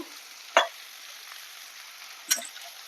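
Pointed gourd stir-fried with bele fish in a pan, a soft steady sizzle with two sharp scraping stirs of the spatula, near and clear, no talking.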